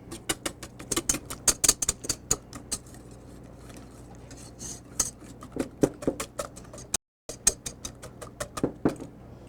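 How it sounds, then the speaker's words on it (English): Whisk clattering against a bowl while mixing ingredients for escarole soup, a quick irregular tapping and scraping rhythm, close and fairly quiet, with a brief gap near the end. "And then we'll simply whisk it up."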